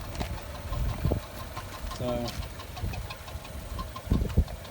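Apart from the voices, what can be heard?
car engine running rough with a misfire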